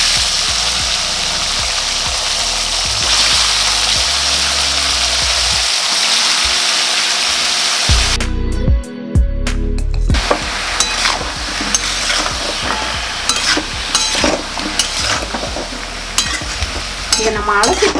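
Sliced plantain sizzles and fries in hot oil in a home kitchen pan, with repeated stirring scrapes and clinks running through a loud, steady hiss that breaks off briefly partway through.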